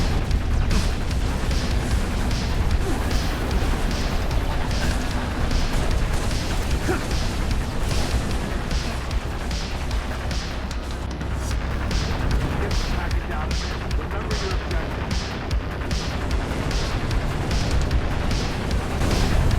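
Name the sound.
shooting and explosions in Halo Reach video game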